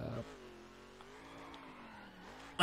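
A car drifts in a racing video game, its engine a faint, steady tone that slowly rises and dips, ending with a short louder burst.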